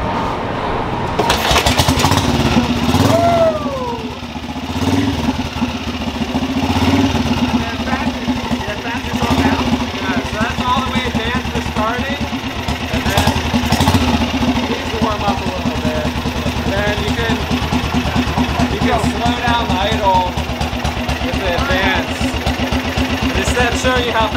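A kick-started small engine fires after three pulls of the choke and settles into a loud, rough idle with uneven pops and revs, while people talk over it.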